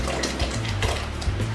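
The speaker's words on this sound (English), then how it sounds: "So you're going to put in all the potatoes into the boiling" Potatoes dropped into a pot of boiling water make a continuous watery splashing and bubbling with a few heavier plops, close and loud.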